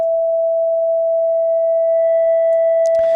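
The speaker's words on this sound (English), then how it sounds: "So we got our sine wave, and let's turn the drive on and see what's happening." Steady pure sine tone from an FM8 synthesizer with a drive distortion effect switched on, holding one clear pitch loud and alone for about three seconds before faint extra harmonics appear and the tone cuts off.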